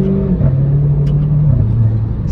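Renault Clio 4 RS Trophy fitted with a full tube exhaust, its steady engine drone dropping in pitch as a gear change goes through, loud and close with no other sounds.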